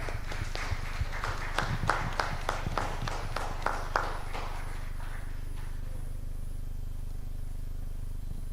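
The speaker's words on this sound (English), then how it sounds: "Round of applause for him as he comes up." Conference audience in Kenya giving a round of applause, a cluster of distinct claps that thins out over several seconds and fades into room hum and quiet.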